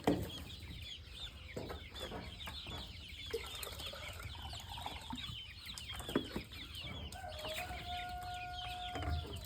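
Several chickens cluck and murmur nearby in a steady jumble, with occasional sharper squawks over a low background hum.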